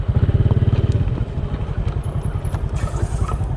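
Motorcycle engine running close by on a ride, its throbbing pulse steady at first, then rough and idling with faint clatter, alone without talk.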